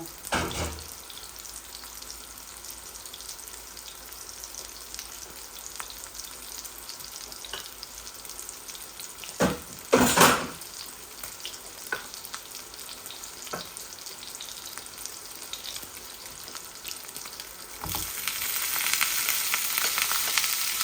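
Pangas fish fries in a pan with a steady close sizzle that runs the whole time. A couple of louder utensil clatters break in midway, and the hiss swells near the end.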